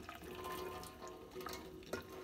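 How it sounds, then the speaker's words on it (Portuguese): Water from boiled potatoes pours out of a pot into a sink, a steady rushing splash with a few sharper spatters, fairly faint and with no talk. "Agora eu vou jogar a água fora, vou escorrer bem."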